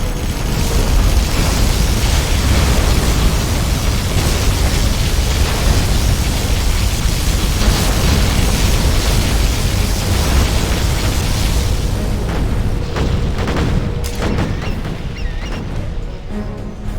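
A particle cannon blast in Command & Conquer Generals Zero Hour, a sustained, roaring wall of explosive noise that holds loud for many seconds before easing off slightly at the end.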